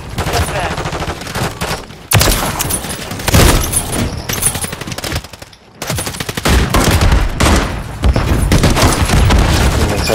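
Heavy explosive fire in a Call of Duty match, loud booming blasts and rapid gunfire packed densely together, broken by a couple of short lulls.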